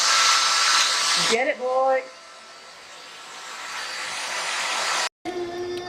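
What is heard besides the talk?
child running a vacuum cleaner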